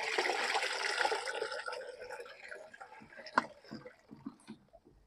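About a liter of water is poured into a container of soaked chopped peas to make a plant fertilizer tea, a splashy rushing pour that tapers into scattered drips and small splashes.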